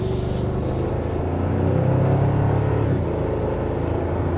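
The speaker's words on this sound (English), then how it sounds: "I'm going to check out the acceleration of this vehicle and see how it drives." A 2024 Toyota Tacoma TRD Sport with a 2.4 liter engine accelerating, its loud, steady engine drone rising slightly in pitch with the cabin close by.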